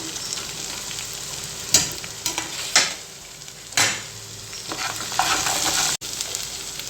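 Soya chunks seasoned with chilli powder and salt are stir-fried in a pan for Manchurian, giving a steady loud sizzle broken by several scraping stirs of a spoon against the metal.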